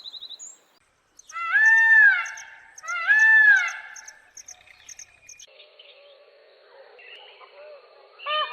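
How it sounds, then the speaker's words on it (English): A peacock gives two loud, drawn-out harmonic cries in close succession, followed by quieter scattered chirps and bird calls. "It is a peacock."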